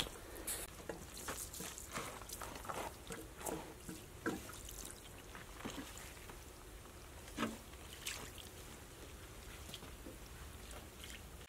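Water splashed and trickled over a concrete surface to keep dust down before grinding for a stone foundation wall, with soft irregular dribbles and drips, fairly faint and steady, no talking.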